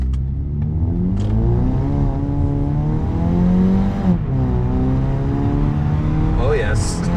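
Mazda3 of the fourth generation fitted with a CorkSport axleback exhaust accelerates on the road, a loud, steady engine note rising in pitch and holding throughout, with people talking over it.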